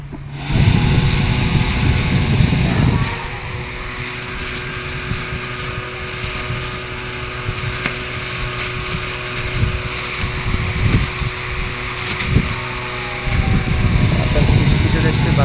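A rechargeable electric fan runs at high speed, blowing a loud, steady rushing whir of air close to the microphone, with someone talking over it throughout.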